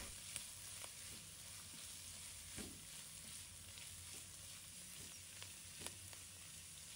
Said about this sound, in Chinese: 在我们把酸菜加进来，青红椒也加进来，大火翻炒均匀